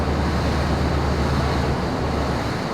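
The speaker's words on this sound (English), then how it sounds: "we see waves breaking on a reef" Surf breaking on a reef offshore during a storm, a steady loud broadband wash with deep rumble and wind noise throughout, no distinct individual crashes.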